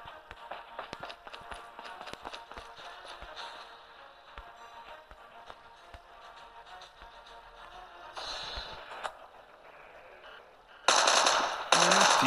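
Rapid bursts of gunfire in the mobile shooter game Call of Duty Mobile, scattered sharp shots through most of the stretch, then a loud, dense volley near the end.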